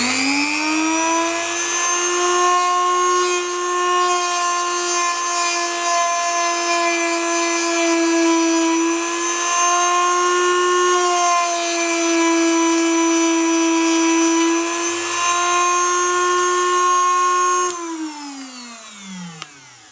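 Power tool grinding a screwdriver tip thinner for camera repair, a steady high whining motor tone held for about eighteen seconds before spinning down, loud and close.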